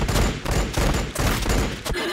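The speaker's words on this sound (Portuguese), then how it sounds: "Esse cara vai atirar em mim" Gunfire in Warhammer 40k Battlesector: a dense fusillade of overlapping shots in rapid bursts, loud and close throughout.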